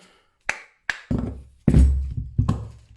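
A hammer strikes the rusted metal parts of a Metabo WE 14-125 angle grinder about six times in an uneven rhythm, each blow a sharp, close clank with a short, dull ring.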